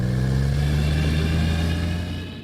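A car engine idling steadily after repair work at an auto shop, a loud continuous hum that stays level with no speech over it.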